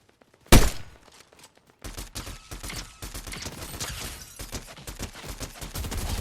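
A loud gunshot cracks out, then a dense rapid burst of automatic gunfire rattles on steadily, with Fortnite Battle Royale weapon sounds and no talking.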